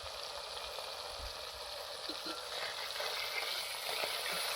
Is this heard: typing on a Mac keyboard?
no